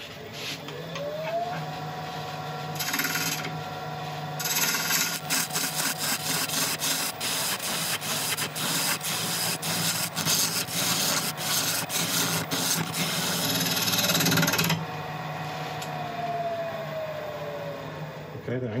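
Woodturning tool cutting a Greenheart and Purpleheart mallet on a lathe, a steady scraping rasp over the motor's hum, held close and loud for most of the stretch as the motor spins up and winds down at either end.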